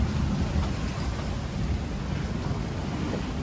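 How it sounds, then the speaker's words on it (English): Rain beginning to fall at sea around a sailing boat in 25-knot winds after morning squalls, a steady, dense wash of low rumbling noise with no voices. "Sounds like it's trying to start raining again today."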